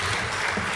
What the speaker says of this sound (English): Can we have a bigger clap?